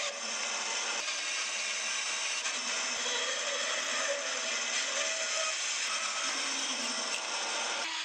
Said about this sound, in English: I shaped the blade a little bit more on the bandsaw.